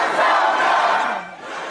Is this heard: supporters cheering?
yes